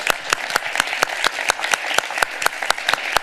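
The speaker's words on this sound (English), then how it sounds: "if we could give them a round of applause and thank them for their service" An audience applauds veterans at a talk, steady loud clapping with a few prominent nearby hand claps standing out in a regular rhythm, continuing without pause.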